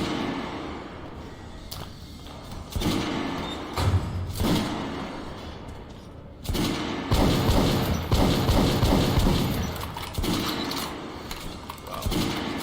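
A shotgun fires repeatedly in the video game Metro Last Light, giving close, loud booming blasts at irregular intervals over ambient game noise, with mechanical handling sounds between shots.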